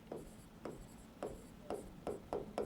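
A pen drawing a physics diagram on paper: about eight short, rhythmic scratchy strokes, close and quiet, each a brief rasp with small pauses between.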